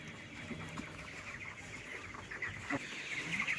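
A chicken clucks a few times, short, soft clucks scattered over a quiet background hum.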